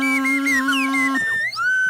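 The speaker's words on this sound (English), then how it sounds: "do your absolute best on the Swanee whistle" A slide whistle plays a steady held note, then swoops and glides in pitch up and down, close and fairly loud, with no talking.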